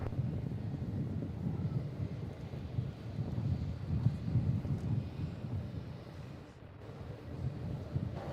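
A Qantas airliner lands on runway 16 at Melbourne Airport at night, heard as a faint, distant, continuous low roar that swells and ebbs slightly, with some wind noise.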